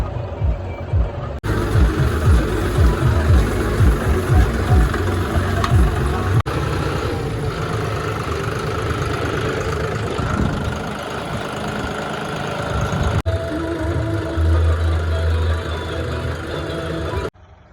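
A John Deere tractor engine chugs and idles nearby while making field ridges, a steady low rumble with knocking pulses early on, continuing throughout.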